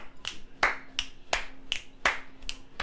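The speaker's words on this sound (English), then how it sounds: "You clap, I snap." About eight crisp finger snaps in a steady, evenly spaced rhythm, close and sharp, each a short bright crack standing alone with no talking.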